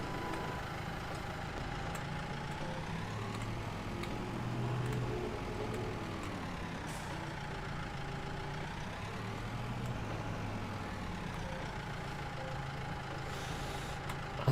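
A tractor engine runs in Farming Simulator 22 with a steady low drone for a long stretch and slow gentle swells in pitch, quiet and even throughout, with no talking.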